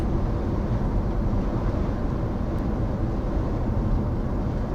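Constant low rumbling buffeting of wind blowing across a microphone on the Florida Gulf Coast while fishing, steady and loud throughout with no voices.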